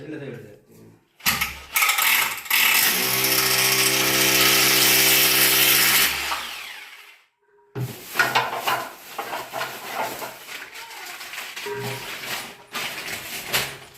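A loud, steady power drill whine runs for several seconds, then stops; scattered knocks and rustling follow, with voices talking at times.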